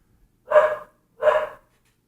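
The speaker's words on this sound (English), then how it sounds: "there's someone ringing at the doorbell and the dog's barking like a mother back there" A dog barks twice, two short, clear, fairly loud woofs about half a second apart against otherwise quiet surroundings.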